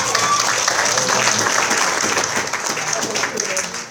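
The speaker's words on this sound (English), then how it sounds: "Let's give Messiah a hand clap of praise." A church congregation claps in praise, a thick, continuous round of hand claps with voices mixed in, staying loud before easing slightly near the end.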